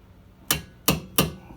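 Three light, sharp metallic hammer taps on a brake pin of an ND Miata, evenly spaced and close, each ringing briefly before fading into a quiet background.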